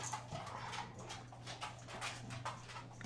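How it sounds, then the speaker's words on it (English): A dog runs around a dining room, its paws making faint light patters and scrabbles that repeat irregularly over a low steady hum, with soft whimpers between them. "my dog's running around the dining room"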